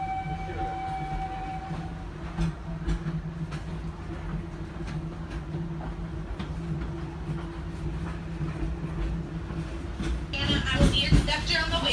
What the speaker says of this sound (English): now we're on this like express train thing